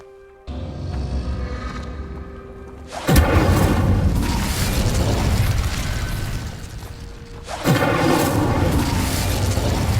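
Incendio fire spell cast in the video game Hogwarts Legacy, loud roaring bursts of flame that erupt and sustain for several seconds, twice, over a low game ambience.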